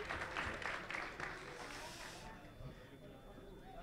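Audience applause at the OSHWDem 2019 robot line-follower pursuit race, a dense crackle of clapping that fills the first two seconds and then thins out as the room quiets.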